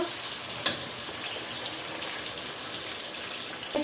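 Whole spices (bay leaf, cinnamon, cardamom) and onion paste fry in hot oil for morog polao, a dense continuous sizzle with a couple of sharp clanks of a utensil at start and end.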